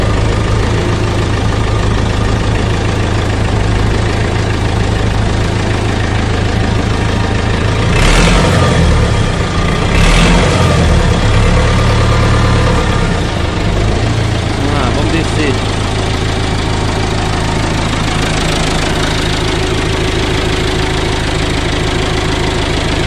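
Massey Ferguson 290 tractor engine idling, a loud, steady diesel rumble throughout with a few brief louder knocks, with someone talking over it.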